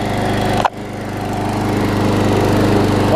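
A Briggs and Stratton Quantum lawn mower engine with a little water in it, running loud and close with a steady drone, briefly stumbling once before settling back into a constant roar.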